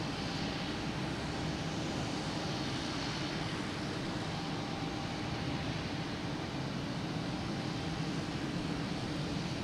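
Airplane engines at Boston Logan Airport, a steady broadband roar holding at constant loudness throughout, heard from the ground nearby.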